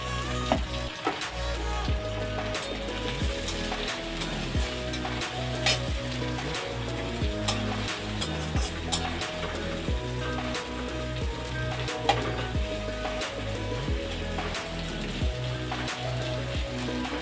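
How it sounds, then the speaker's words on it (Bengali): Chopped onion dropped into hot oil in a wok sizzles and crackles steadily for the whole stretch, a dense close frying hiss with scattered pops and a few stirring clinks. "এই তেলের মধ্যে কড়াই পেঁয়াজটাকে ছেড়ে দেবো।"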